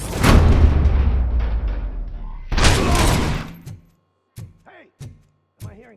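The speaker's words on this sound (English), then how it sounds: "Am I hearing gunshots?" Gunfire in the video game RoboCop: Rogue City, a dense roaring fusillade of shots followed by a second burst, then a few short scattered sounds and fragments of voice.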